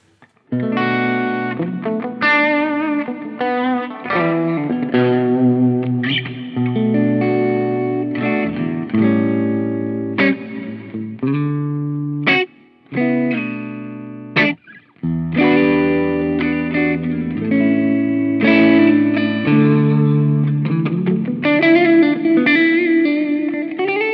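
Distorted electric guitar chords and melodic lines through a Poly Effects Digit multi-effects pedal, drenched in lush, long reverb tails, played continuously at a steady, fairly loud level.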